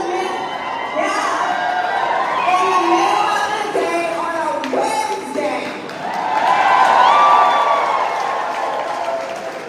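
A large crowd at a Beto political rally on a Wednesday midday, cheering, whooping and clapping in rolling waves, with a voice talking briefly over the noise.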